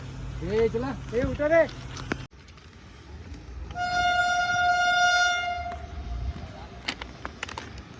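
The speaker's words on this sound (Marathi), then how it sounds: "ट्रेन पण आलेली आहे सुसाड अशी" A train passes nearby, sounding a long steady horn blast over rumbling wheels, with people talking and shouting beforehand and a few short squeaks near the end.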